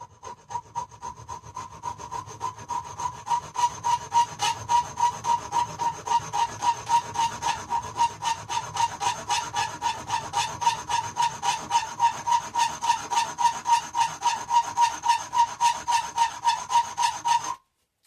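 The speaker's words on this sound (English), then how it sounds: "I'm just filing away from this bottom edge at the moment" Steady back-and-forth strokes of a file rasping along the bottom edge of a metal glockenspiel bar during setup and tuning of a 32-note glockenspiel, an even rhythmic scraping of about three strokes per second, close and alone.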